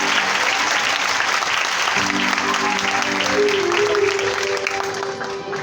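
A congregation at a Catholic church service bursts into loud, sustained applause that fills the room, with a voice speaking faintly beneath the clapping.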